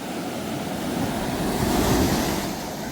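Sea waves roll and crash on the shore at Vadamarachchi, a continuous loud roaring surge that swells toward the middle, with wind buffeting the microphone and no voices.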